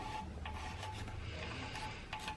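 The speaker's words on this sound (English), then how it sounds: "Now I'm going to use my razor blade, really gently clean off all the" A razor blade scrapes old silicone sealant off an engine mating surface during a camshaft job on a Nissan S15. It is a quiet, steady rasping scrape that continues alone, with no talking.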